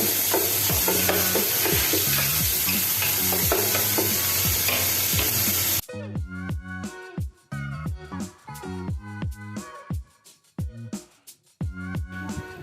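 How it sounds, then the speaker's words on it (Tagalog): Ingredients with chicken breast sautéing in a pan for baked macaroni and cheese, a loud dense sizzle that cuts off sharply midway, then gives way to music with softer frying beneath. "Igisa na ang mga ingredients."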